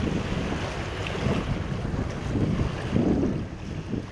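Strong gusting wind roars over the wide, fast-flowing Padma river in monsoon, with broad low buffeting and surging bursts of wind noise against the microphone, continuous and loud with no voices.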